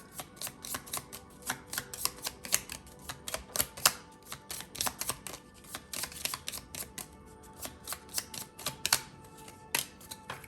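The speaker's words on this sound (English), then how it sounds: "And I'll be shuffling your yes or no cards." Rapid, irregular clicking and snapping of yes-or-no reading cards being riffled and shuffled, in quick clustered bursts, close and fairly quiet, with no voices.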